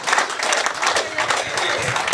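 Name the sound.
audience clapping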